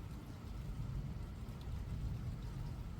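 Steady rain near Houston, a soft, even hiss of falling drops with a low background rumble, fairly faint and continuous, no voices.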